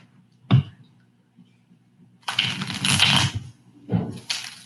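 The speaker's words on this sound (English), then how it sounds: "I'm shuffling your cards." Tarot cards shuffled by hand for a reading: a single sharp tap, then a longer riffling burst of card flutter and a shorter one after, close and alone with no talk.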